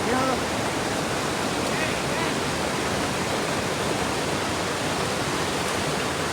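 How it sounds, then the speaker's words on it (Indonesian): A river rushes near the Lubuk Kuali waterfall in Koto Alam, Agam, West Sumatra, making a loud, constant roar of flowing water that fills the whole stretch without pause. "Sungai pertama."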